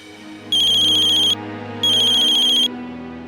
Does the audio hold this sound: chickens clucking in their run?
no